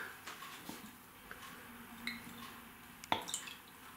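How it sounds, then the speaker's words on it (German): A few drops of Worcestershire sauce land in a marinade of rum and cola for beef neck, faint close drips and small wet splats spaced irregularly over quiet background hiss, with one sharper drop near the end. "Worcestersauce, ein paar Tropfen."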